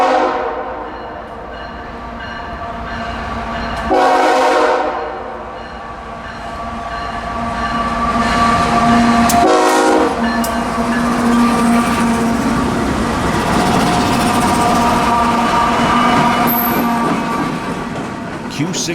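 A CSX Q606 freight train with mixed merchandise cars rumbles steadily past up close, its loud horn sounding in long blasts over the grinding wheel and rail noise, on an early morning line between New Orleans and Waycross.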